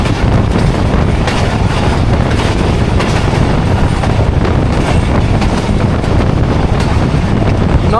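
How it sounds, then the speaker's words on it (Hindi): The 40 Down Jaffar Express, train 6407, runs through Hasan Abdal station, heard from on board as a loud, unbroken roar of wheels and rattling carriages with heavy wind rush. "हसन अब्दाल रेलवे स्टेशन को थ्रू पास कर रही है 40 डाउन जाफर एक्सप्रेस 6407"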